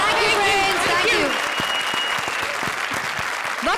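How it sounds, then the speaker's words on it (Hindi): Loud, sustained applause from a comedy show studio audience, a dense continuous roar of clapping with a voice and music over the start before the clapping carries on alone. "एक बार फिर से जोरदार तालियां"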